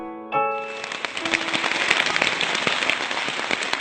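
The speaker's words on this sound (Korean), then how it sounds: "원시숲의 고요함을 빗소리가 가득 채웁니다" Rain falling in a primeval forest on Ulleungdo's Seonginbong, a dense, steady hiss of drops pattering on leaves and ground with scattered sharper ticks, following a brief tonal sound at the start.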